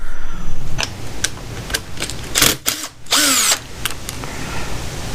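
A power tool loosening the ground wire bolt on a 1973 Johnson 65 hp outboard motor, heard as a few loud, close whirring bursts with brief pauses and light clicks between them.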